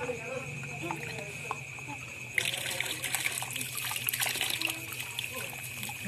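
Water runs steadily from a kitchen tap during dishwashing, a constant hissing trickle that grows brighter partway through, with faint background activity.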